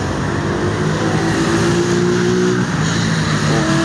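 Cars driving through street traffic in Medellin, Colombia, a steady close roar of engines and tires that holds level for about four seconds, with no talking.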